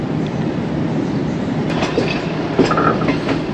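The Tezgam passenger train rolls along the rails in Pakistan, moving from the loop line onto the main line. A loud, steady rumble of wheels and carriages carries a few faint squeals and clacks, and no voices are heard.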